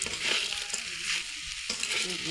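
Rice frying in a pot for Ramadan chickpea biryani, a steady close sizzle with scraping stir strokes repeating through the short stretch, no voices.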